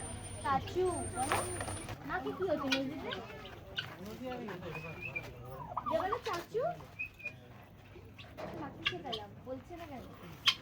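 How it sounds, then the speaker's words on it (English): Turkeys gobble and call at a bird park, a series of warbling bursts rising and falling under nearby chatter, with people talking at moments and a faint high whistle early on. "so can you guess which bird is this? Turkey."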